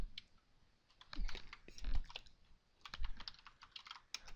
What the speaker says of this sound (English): a lot of typing here